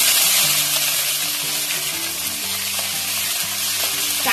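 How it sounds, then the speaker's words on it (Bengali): Cashews and raisins sizzle in hot oil with bay leaves, cumin and whole garam masala, a steady close crackling fry that runs continuously without any voices. "কাজু কিশমিশ দিয়ে দিচ্ছি।"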